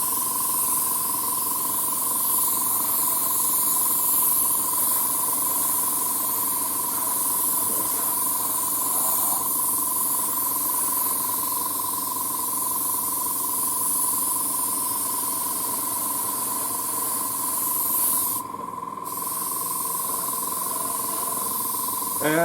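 An airbrush or spray can lays a second coat of paint on a 1:35 scale Trumpeter E-50 Standardpanzer tank model, producing a steady, continuous hiss that runs almost unbroken, with a brief pause near the end and no talk over it.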